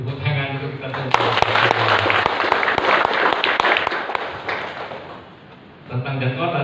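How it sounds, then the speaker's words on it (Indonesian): Workshop audience clapping together in a room, a loud sustained burst of applause lasting several seconds between stretches of a speaker's amplified voice. "Tepuk tangan untuk kita semua."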